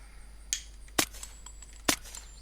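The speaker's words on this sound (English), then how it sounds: "And the Zubeknikov rapid fire test." Gunfire from a Zubeknikov rifle in the video game Unturned: three sharp, close, loud reports about half a second to a second apart, each cracking out over a quiet, faintly humming background.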